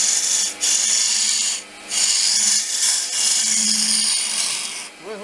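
An old scraper made from a Soviet chisel smoothing an oak blank, giving long loud rasping strokes close up, each a steady scratchy hiss broken by short pauses between passes, with no talking.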